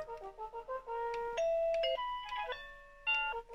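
A wireless 433 MHz Friedland doorbell chime plays a bright electronic melody of stepped ringing tones, clear and close, with no voices.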